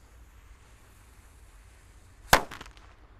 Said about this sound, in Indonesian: Lanjut kita akan menyalakan mercon Raja Kera